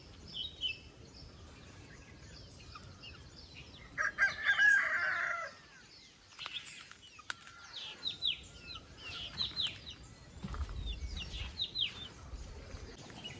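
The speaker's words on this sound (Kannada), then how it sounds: "ಈ ಕೋಳಿ ಇಷ್ಟ ಆಗಿದ್ರೆ ಲೈಕ್ ಮಾಡಿ" A naked neck rooster of a rare native breed crows loudly in a short burst, followed by scattered clucks, chirps and wing flaps from nearby fowl in a quiet yard.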